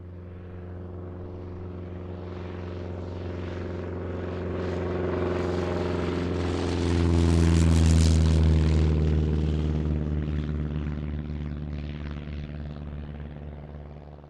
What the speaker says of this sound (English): Delta used the DC-7 prop airliner in the 1950s.